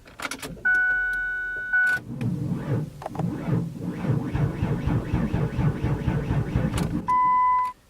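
A 1995 Ford Windstar with a dead seven-year-old battery fails to start, giving about five seconds of rough, rhythmic cranking and clicking. Steady warning chimes sound before and after it, and no one speaks.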